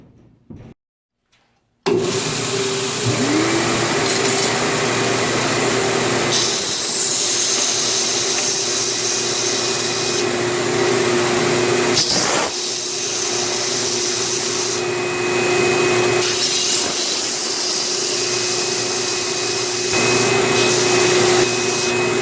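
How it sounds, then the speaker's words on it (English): A belt grinder shapes the stained epoxy segmented handle of a fillet knife: the motor spins up after a short silence, then a loud continuous abrasive whir and hiss rises and eases as pressure changes. "I'm about to go take this over to the belt grinder, clean it up, get it shape,"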